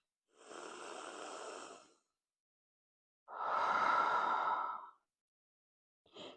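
Slow, deep breaths during prenatal yoga: two long, soft airy exhalations, each lasting over a second and separated by quiet, followed by the start of a third, close and gentle with no talking.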